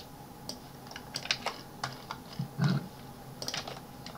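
Keystrokes on a computer keyboard while entering equations in Mathcad 14, a sparse, irregular run of quiet clicks with short pauses and one slightly heavier cluster of presses, no voices.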